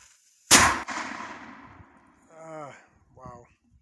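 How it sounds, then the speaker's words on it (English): A homemade pirate cannon for a boat fires with one sharp, loud boom that echoes and rumbles away over a couple of seconds, followed by brief voices. "Here's the cannon firing for the boat."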